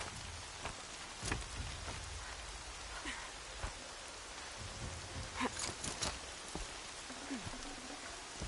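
Rain falls steadily, with scattered louder drops and splashes hitting nearby surfaces over a constant hiss.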